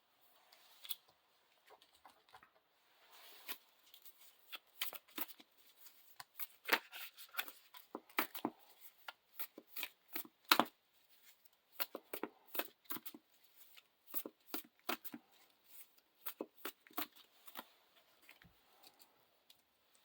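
A deck of playing cards for a Lord of the Rings card game being shuffled, with bursts of crisp riffling snaps and flicks coming in irregular clusters, quiet but close, and no voices.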